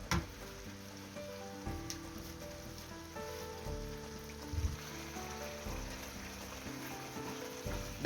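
Prawns sautéing in a covered pan for a pumpkin curry give a steady crackling sizzle like light rain, continuous and close, with a muffled low bed of sound beneath and no talk.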